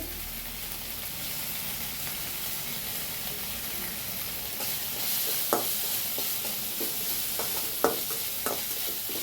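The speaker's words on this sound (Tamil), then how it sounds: "இப்போ வெங்காயம் நல்லா வதங்கிடுச்சு." Onions sautéing in oil in a pan for egg chilli chicken parotta, a steady close sizzle with occasional short scrapes and taps of a spatula against the pan.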